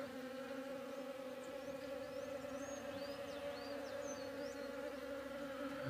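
Honeybees buzzing inside a hive make a dense, steady drone that holds unbroken throughout, close and fairly loud, with no voices.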